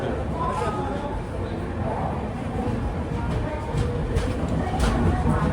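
A Thiruvananthapuram–Ernakulam Venad train at a station platform gives a steady rumble of rolling stock throughout, with low ambient station noise and no clear talk.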